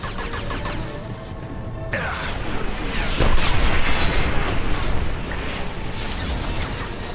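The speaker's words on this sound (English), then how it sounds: "The husks can explode now." A husk blows up in the Mass Effect 2 video game, giving a loud, rumbling boom in the middle of dense combat noise, with gunfire before it and a voice speaking over the action.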